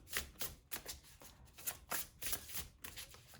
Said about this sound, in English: so I'm just going to reshuffle.